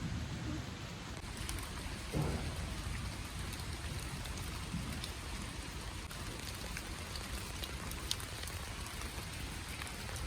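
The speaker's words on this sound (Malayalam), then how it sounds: "നിങ്ങളിത് കാണുക മഴ പെയ്യുന്നുണ്ടല്ലേ" Steady evening rain patters down in a continuous dense hiss, with scattered louder drops, heard alone without any voices.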